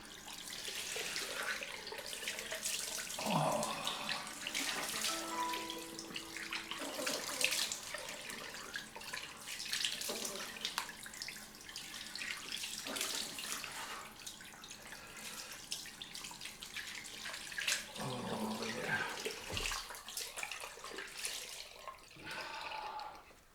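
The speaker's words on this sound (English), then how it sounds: "cold rinse time." A tap runs steadily into a sink for a cold rinse after a shave, a close and constant splashing rush. Hands briefly interrupt the flow with a few louder splashes.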